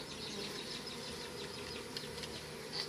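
Bees buzzing steadily while a beehive is taken apart and removed, a constant mid-level drone with faint scattered knocks and no voices.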